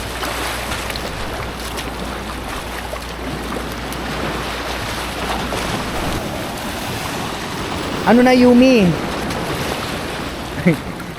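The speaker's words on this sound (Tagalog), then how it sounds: "Kaya yung hampas ng tubig, talagang hahampasin ka ng malakas." Strong waves surge and crash at a tidal pool at high tide in Casiguran, Aurora, a steady roar of water and wind close to the microphone, with a voice speaking briefly over it near the end.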